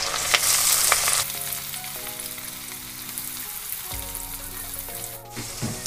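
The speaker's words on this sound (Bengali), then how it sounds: "পেঁয়াজটাকে এখানে খুব নরম করে আমি ভেজে নেব।" Chopped onions fry in oil with a steady, close crackling sizzle, continuous throughout and without any talking.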